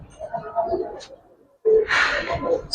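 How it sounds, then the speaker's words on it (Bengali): A male silver pigeon coos close by, a short burst of soft throaty sound followed by a louder rustling flurry, with quieter murmuring before it. "ছেড়ে দিক নর কবুতর, একদম সিলভার কবুতর।"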